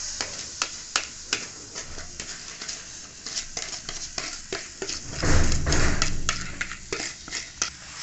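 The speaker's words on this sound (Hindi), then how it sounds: "इसको जल्दी जल्दी से हम लोग मिक्स कर लेंगे अच्छे तरीके से।" Egg and sugar mixture stirred briskly into roasted gram flour in a pan for besan barfi, with rapid repeated scraping and clinking of a utensil against the pan and a brief louder sizzling swell midway, no talking.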